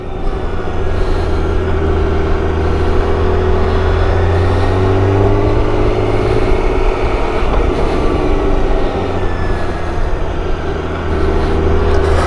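A BMW K1600 GT motorcycle with a flashed ECU is ridden at speed, its engine drone steady and loud throughout, with heavy wind rush and no talk.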